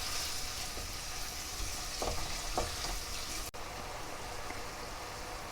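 Tomatoes fry in a pan for a lamb kidney curry, giving a steady broadband sizzle with a few brief scraping stirs and one sharp knock near the end, close by and without speech.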